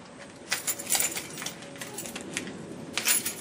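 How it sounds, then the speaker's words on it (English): Keys jingle in short metallic bursts as they are pulled from pockets outdoors, several bright clinks and rattles spread over a few seconds, close and fairly faint. "Let me take keys out of my pockets."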